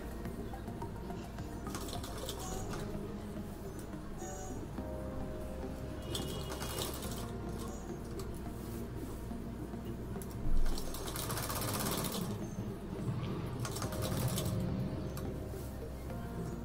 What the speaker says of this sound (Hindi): सबसे पहले हमें इसके एकदम किनारे पर स्टिच लगानी है